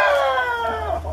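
A rooster of Bangkok and Javanese crossbred fowl gives a short, loud, close crow that falls in pitch, heard alone with no talk over it.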